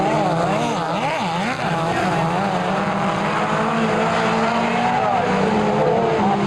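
Midget race cars racing around Kihikihi Speedway at the 1992 NZ North Island Midget Championships, engines whining and rising and falling in pitch as several cars pass, loud and continuous with a commentator talking over them.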